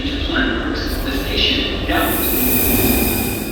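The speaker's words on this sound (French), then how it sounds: "il y a le métro d'en face qui passe" Paris metro train rumbling past on the opposite track, a steady loud roar with a faint high squeal, while a person talks over it.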